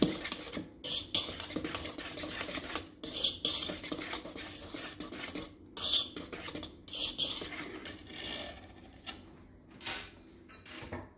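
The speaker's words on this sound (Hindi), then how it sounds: "तो मैं करूँगी इसको इस तरह से अच्छी तरह मिक्स" Chocolate cupcake batter mixed by hand in a bowl, with repeated scraping and clinking strokes of a spoon or whisk against the bowl in an uneven rhythm, close and clear with no talking.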